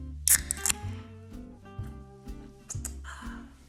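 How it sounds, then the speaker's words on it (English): A Diet Coke can pops open with two sharp metallic clicks close by, followed a few seconds later by a short soft fizz, all over steady background music. "who doesn't love that sound of Diet Coke opening?"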